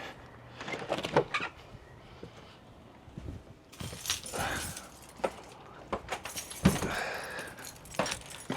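Keys jangle and rattle in irregular bursts while being rummaged for, close by and fairly faint, with handling clatter between the clinks.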